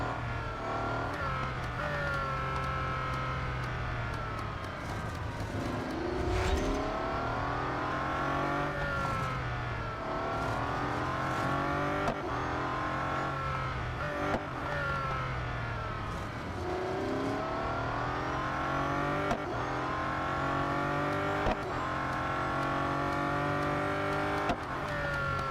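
Bugatti Centodieci hypercar engine in the racing game Real Racing 3, a loud continuous howl that climbs repeatedly in pitch through the gears, with a brief drop and recovery, steady throughout with no talking.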